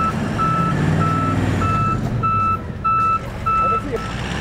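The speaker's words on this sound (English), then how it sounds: "Now jump back in the truck and back it the rest of the way up to the vehicle." Steady reversing beeps ring out at an even pace from a tow truck backing up toward a stranded car, sounding over a low, rumbling engine and broad mechanical noise.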